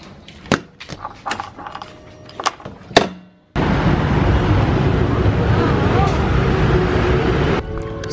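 Motorbike ride through traffic in Bali. Scattered thumps and knocks give way to a loud, steady rush of engine and wind noise, like riding at speed, that continues to the end.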